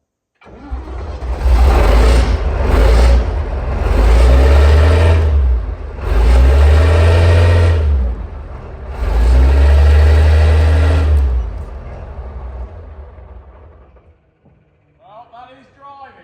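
A Chieftain tank engine, running for the first time in twenty years, roars loud and close in three long revving surges with a heavy low rumble, then dies away, followed by brief talk.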